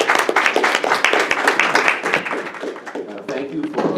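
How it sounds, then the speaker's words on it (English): Audience applause for an LAUSD board member at a public event, a dense, steady wash of clapping from many hands lasting a few seconds, with some voices mixed in. "So please give him a round of applause."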